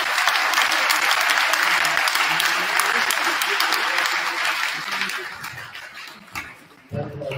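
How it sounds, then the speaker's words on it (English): A dense round of audience applause in a hall after an event's organizers are thanked, loud and sustained for several seconds before thinning out, with a few knocks at the end. "So let's give a round of applause to them."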